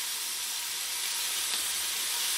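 Strips of bacon sizzling in a hot, dry pan with no added fat, a steady close hiss that holds evenly throughout with no talking.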